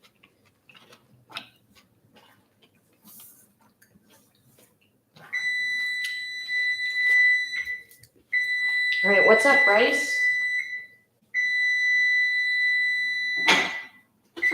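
A kitchen timer sounds while sushi hand rolls are being made, loud, high, steady electronic beeping in long stretches with short gaps, preceded by quiet clicks, while someone speaks briefly.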